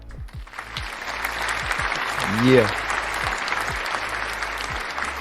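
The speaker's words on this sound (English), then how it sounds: "let me give you a round of applause" Applause sound effect, a crowd's dense clapping running throughout under a voice briefly speaking, with a short rising whoop or cheer swelling in the middle.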